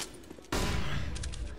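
A gunshot fired through a wall in a Counter-Strike match, a sudden loud burst of gunfire after a quiet half second, sustained for about a second with a few trailing clicks, no talk over it.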